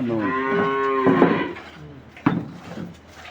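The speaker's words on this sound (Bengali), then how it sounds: "এই যে গরুটা" Dairy cow at a livestock market in Netrokona, Bangladesh, giving a loud, close, drawn-out moo with a rising then falling pitch, followed by a sharp knock and quieter background crowd noise.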